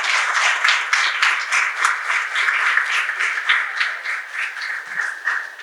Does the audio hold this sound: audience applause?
yes